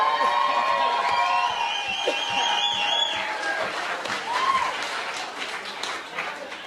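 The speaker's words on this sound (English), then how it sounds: "A big round of applause to all of our contestants for making it this far." A studio audience at a charity Hot Ones style contest applauds and cheers the contestants, with sustained clapping and some shouts blending with a bright tonal background.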